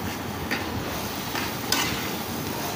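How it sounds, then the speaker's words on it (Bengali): Spice paste is stir-fried in a pan for a fish dish, making a dense, continuous sizzle with a couple of brief stirring scrapes close by. "এখন খুব ভালোভাবে মশলাটাকে কষিয়ে নিতে হবে।"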